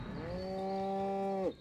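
A single cow in the Destroy All Humans! video game lets out a long, steady, tonal moo that ends abruptly, loud and close with no talk over it.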